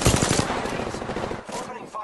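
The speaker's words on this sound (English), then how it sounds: "Opening fire on the enemy." Rapid automatic gunfire in a shooter video game, a fast burst of loud close shots followed by a brief pause and a few more rounds.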